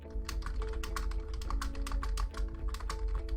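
A search term is typed on a computer keyboard, with quick, irregular clicking keystrokes close up and steady for several seconds, nearly alone apart from a low hum.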